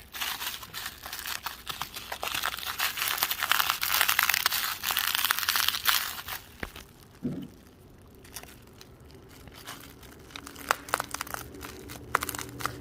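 An old serrated Spyderco knife saws through material with a dense crinkling, tearing rasp for about six seconds, then goes quieter with scattered scraping and a few sharp ticks.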